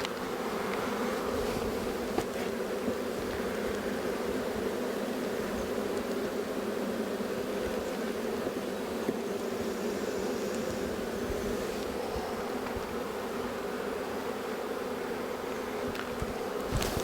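An angry, queenless honey bee hive gives a dense, steady buzzing drone that stays even and loud throughout, with no voices.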